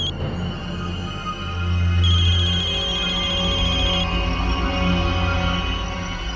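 A phone rings alone at steady volume, its repeating electronic ringtone tones sustained throughout with no voices over it.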